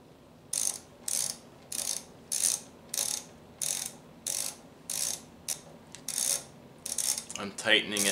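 A ratchet tightens an AC Delco double platinum spark plug, part 41-940, in a 2001 Pontiac Aztek. About a dozen evenly spaced bursts of close metallic clicking sound alone before a brief rattle at the end.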